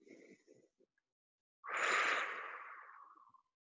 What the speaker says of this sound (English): 2 more breaths.